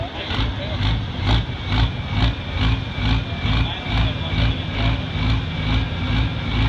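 A hot farm tractor named Dirt Money, entered in the 10,000 lb class at a tractor pull in Marion, Kentucky, roars loud and close in a steady, heavy engine drone with a rapid rhythmic pulsing throughout.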